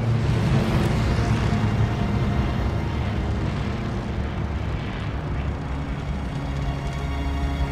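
A WWII-era fighter plane in a Call of Duty Vanguard Battle of Midway dogfight mission drones with a loud, steady engine roar that fills the whole stretch without pause.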